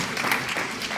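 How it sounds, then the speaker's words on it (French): Brief burst of dense audience applause at a French community assembly, steady and even throughout, with no voices on top. "on peut applaudir Ricardo"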